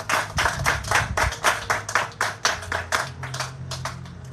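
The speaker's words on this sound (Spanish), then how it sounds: "¿Cuánto le aplauden fuerte al Dios de la gloria?" A church congregation claps loudly in a fast, steady rhythm of sharp, close hand claps, with a low musical drone underneath and no talking.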